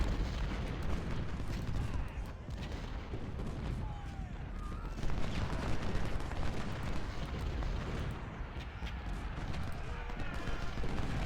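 Massed musket gunfire and artillery on a Civil War battlefield in Ultimate General: Civil War, a dense, continuous rumble of crackling volleys and booming cannon shots, steady and distant-sounding throughout.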